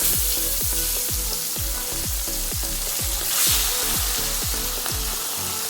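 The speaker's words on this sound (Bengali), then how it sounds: "যে কটা মাছ আর কি বাকি ছিল সেই মাছগুলো এবার ভাজতে দিয়ে দেবো" Pabda fish frying in hot oil with a steady close sizzle, overlaid by a regular series of sharp rhythmic knocks, likely spices being ground on a grinding stone, continuing throughout.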